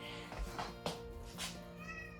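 A cat meows a few times close by, short whiny cries over faint room noise and soft background talk.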